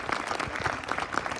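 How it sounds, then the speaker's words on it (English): Brief audience applause for Scouting USA at a Great Falls Municipal Band concert, a short burst of scattered clapping from a crowd, moderately quiet and uneven. "let's give a round of applause to Scouting USA too"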